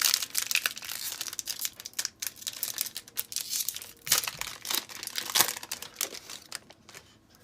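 The plastic wrapper of a Magic: The Gathering Mystery Booster pack crinkles and tears under handling: a close, irregular run of crackles and rips with a few sharper bursts, no voices.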